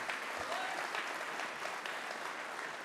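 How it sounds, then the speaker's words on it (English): Dense, steady applause from a ballroom luncheon crowd for a panel fills the whole stretch, loud and continuous without a break. "One last round of applause for this panel."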